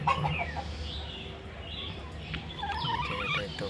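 A large-breed black hen clucks softly near a basket full of eggs, with faint, intermittent calls over a quiet background and no talking.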